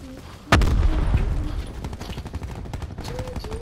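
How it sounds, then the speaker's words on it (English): Gunfire in Call of Duty Black Ops 4 Blackout ground war: one sharp, loud shot cracks, then a dense stream of rapid shots and distant pops rattles on, with game sounds in the background. "I'm getting shot from the trees!"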